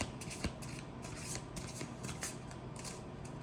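Rose Oracle cards being shuffled by hand, a steady crisp riffling rustle with repeated soft flicks, close and quiet, no voices over it.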